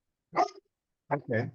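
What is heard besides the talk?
Labrador dog barking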